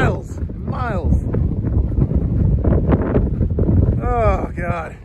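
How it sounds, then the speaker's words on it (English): Strong desert wind buffets the microphone with a steady low roar throughout, while voices talk over it. "So windy."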